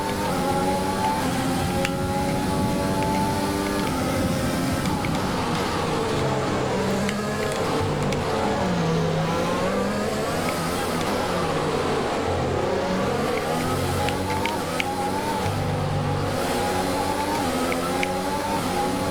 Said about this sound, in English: Here comes Leclerc again, able to get the power down quicker off the corner